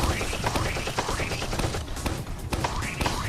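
Rapid rocket launcher fire in a Roblox prison-escape game, with dense repeated bursts and blasts running loud and continuous throughout, mixed with other game noise.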